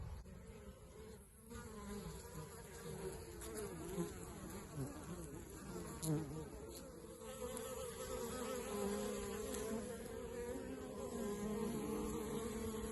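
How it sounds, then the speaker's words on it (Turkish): Honeybees humming steadily around the hives of an apiary on a calm day, a dense continuous buzz with individual bees passing close to the microphone now and then. "Arılarımız çalışıyorlar."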